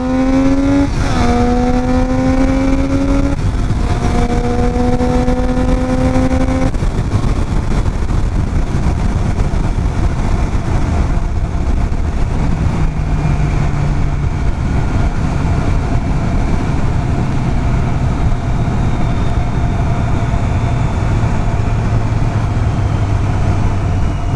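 A motorcycle ridden along a road in Wales makes a loud, close engine drone throughout, rising in pitch through a few gear changes early on and then settling into a steady low hum over continuous road and wind noise.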